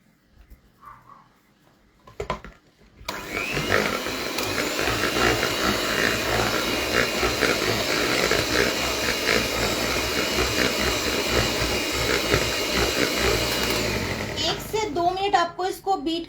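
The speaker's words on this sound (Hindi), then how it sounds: "आपको इसको बीट करना है तब तक के जो शुगर है वो प्रॉपरली ब्लेंड ना हो जाए" An electric beater whirs steadily through cream cheese and sugar for a red velvet cake frosting. It starts after a quiet opening, runs loud and continuous, then cuts off near the end.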